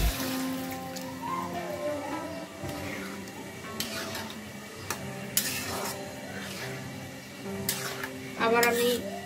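Potatoes and jackfruit stirred together in a pan as a jackfruit curry cooks, with repeated clinks and scrapes of a utensil against metal over a low sizzle and a steady kitchen hum.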